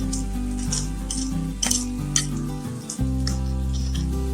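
Onion, chilli and ginger paste masala sautéing in hot oil with garlic, a steady loud sizzle with a low frying hum, broken by a few clinks of a spoon against the pan.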